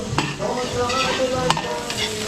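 Tilapia sizzles steadily in a frying pan in a busy restaurant kitchen during a barangay fiesta, with spatula scrapes and stirring clatter close by and no talk.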